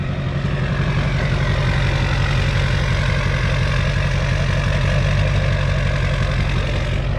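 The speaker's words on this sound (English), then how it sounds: "Yeah, that's an LBZ Duramax in a Yukon." An LBZ Duramax diesel idles steadily in a GMC Yukon, a close, continuous low rumble with an even diesel clatter that holds unchanged throughout.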